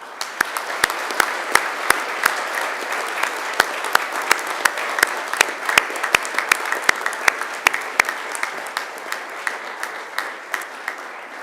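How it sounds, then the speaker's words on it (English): A large graduation audience at Macquarie University applauds steadily for over ten seconds, a dense even wash of many hands clapping with a few sharp individual claps standing out. "And now it's time to give them a mighty round of applause."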